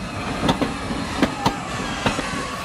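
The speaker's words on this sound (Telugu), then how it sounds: "అయ్యో ట్రైన్ స్టార్ట్ అయింది" A train pulls away on its rails, a steady rolling rumble broken by regular clickety-clack wheel knocks that come at an even pace.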